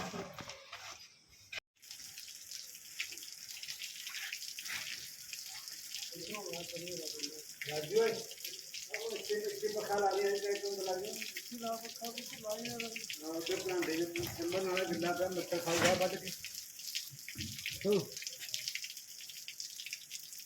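Water from a motor pump runs and gushes steadily into a drum, with voices talking over it in the middle and a brief pause near the start.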